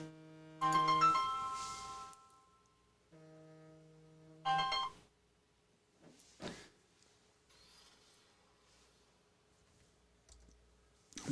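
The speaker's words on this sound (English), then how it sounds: "A phone call." An incoming call rings on a phone beside a Lenovo Legion 5 Pro laptop. Two short bursts of bright electronic ringtone tones sound alone in a quiet room, followed by a few faint clicks.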